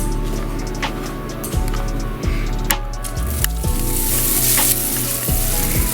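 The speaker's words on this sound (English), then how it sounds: "While our pan is heating up, add about a tablespoon of oil and a tablespoon of butter." Oil and butter sizzle loudly in a hot pan while meatballs and marinara are being made, with a continuous crackling hiss, a few bubbling pops and scraping touches, and no talking.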